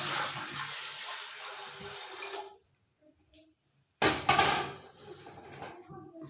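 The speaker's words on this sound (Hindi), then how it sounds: "सबसे पहले इसमें हम पानी शामिल कर देंगे।" Water pours from a container into a pressure cooker on a stove for about two and a half seconds, stops briefly, then a second splashy pour follows, fairly faint and close.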